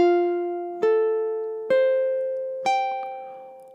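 Four plucked ukulele notes and chord strums from measure 10 of a classically inspired lullaby, each rising slightly, ringing and decaying softly alone at an even pace.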